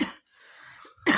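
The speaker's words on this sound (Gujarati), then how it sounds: "ઉધરસ બહુ જ છે" A woman's single harsh cough, close and fairly loud, followed by a brief breathy pause and then a second burst at the end, recorded indoors at home while folding laundry.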